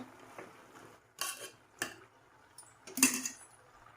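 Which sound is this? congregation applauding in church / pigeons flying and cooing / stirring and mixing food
stirring and mixing food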